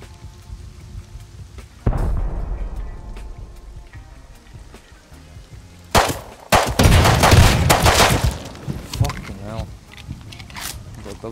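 A double-barrel shotgun fires in the video game Rust, giving a loud blast and then a dense cluster of heavy booms a few seconds later, with people talking over the action.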